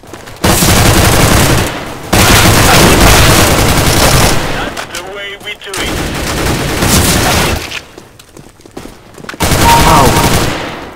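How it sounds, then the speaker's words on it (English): Bursts of gunfire in a shooting video game, loud rapid volleys with booms, broken by short gaps and mixed with game noise. "Aduh, gue ditembakin nih."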